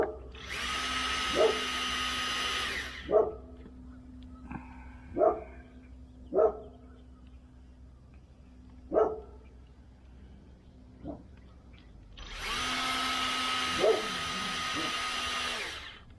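A dog barks about seven times in single sharp yelps, spaced irregularly at moderate distance, while a power drill whines loudly before and after the barking.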